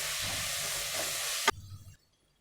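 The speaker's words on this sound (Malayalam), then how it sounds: "ഇനി ഇതെല്ലാം കൂടെ നന്നായിട്ടൊന്ന് വഴറ്റിയെടുക്കണം." An onion and tomato mixture sauteing in a pan for chicken biryani, a steady close sizzle that ends abruptly with a clank of a utensil, then brief faint rustling before silence.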